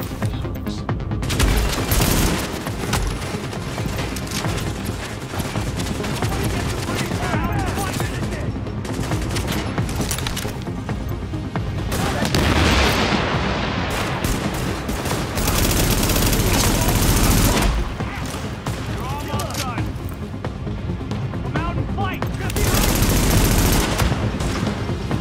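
Rapid, sustained gunfire from a gun in the video game The Division, loud dense bursts and booms running almost continuously with brief lulls, under occasional talk.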